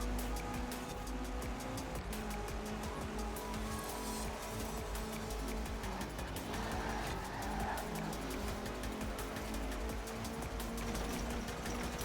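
Race car driving in Forza Horizon 4, a steady loud engine drone with tire squeal and skidding running throughout, close and continuous with no talk.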